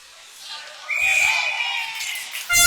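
A referee's whistle blows for an offside call at a youth ice hockey game, a sustained high shrill tone about one second long over crowd noise and rink echo, with a sharp thud near the end.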